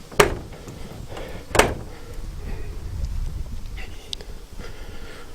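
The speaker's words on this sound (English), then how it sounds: "the doors just shut really nicely" Doors on an old Commer lorry shut with two solid thuds about a second and a half apart, followed by quieter handling noises and low background rumble.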